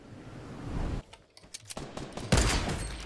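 Gunfire from another player in the Fortnite video game comes as a quick burst of sharp shots followed by a louder, heavier blast.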